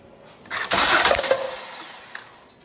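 A Ford Escape engine cranks and catches during a water pump and belt job, a loud start that settles into a running idle which fades slightly, heard close with no talking.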